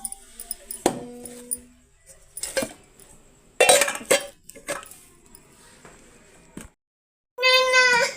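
Steel bowls and cups are picked up and set down one by one, giving sparse, close clinks and clatters with quiet gaps between them, while someone talks intermittently in the background.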